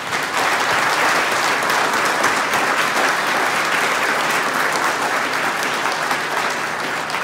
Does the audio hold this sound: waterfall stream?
no